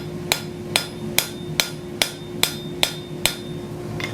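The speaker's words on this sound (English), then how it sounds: "Let your hammer blows radiate from that center and go from there." A blacksmith's hammer strikes metal while forging a feather-shaped bowl: eight crisp, ringing blows land at a steady, even rhythm, close and clear.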